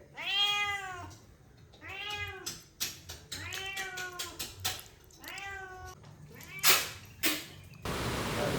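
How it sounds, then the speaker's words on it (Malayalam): A neighbour's cat meows several times up close, long drawn-out cries with pauses between, followed by a short burst of noise at the end. "ഈ ചാടി നടക്കുന്ന അപ്പുറത്തെ വീട്ടിലെ പൂച്ചയാട്ടോ"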